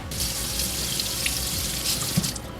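Running tap water from a kitchen faucet pours steadily into a sink while a knife is rinsed, a close continuous splashing rush with no speech.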